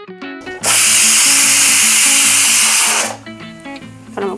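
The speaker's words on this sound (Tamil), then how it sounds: "இப்போ நம்ம குக்கர் நல்லா சத்தம் வந்துடுச்சு" A pressure cooker lets out one loud, sustained steam whistle for about two and a half seconds, a harsh hiss set against soft background music.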